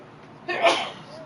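A single quick sneeze, sharp and fairly close, breaking a quiet moment.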